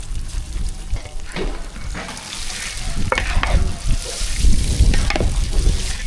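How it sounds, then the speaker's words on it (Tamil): Mustard seeds, cumin and dried red chillies crackle and sizzle in hot oil during a South Indian tempering, with steady frying noise, scattered sharp pops and occasional stirring clinks, close and fairly loud with no talking. "கடுகு நல்லா பொரிஞ்சிட்டு ஜீரகம் சேர்த்துக்கலாம் வரமிளகா நல்லா பொரிஞ்சிட்டு கருவேப்பிலை சேர்த்துக்கலாம்"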